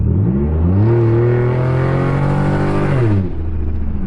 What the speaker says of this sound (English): I'm gonna just let y'all listen to the exhaust and just cruise with it.